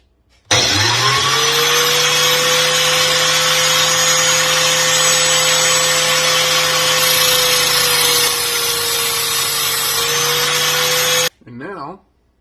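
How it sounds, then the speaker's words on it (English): A drill bit spinning in a drill is held against an angle grinder clamped in a vise, making a loud, continuous high-pitched whine for about eleven seconds before cutting off abruptly, followed by a brief sound at the end. "put it in the drill, so it's spinning in the drill, and then the angle grinder is spinning clamped in the vise, and you just hold it up against it"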